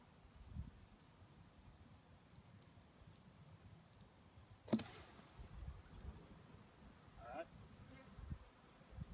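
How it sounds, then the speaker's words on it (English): Faint, steady buzzing of agitated honey bees shaken onto a hive frame during a hive split, a low insect drone with a brief sharper burst partway through. "I shook a couple bees on that frame, so they're getting a little agitated."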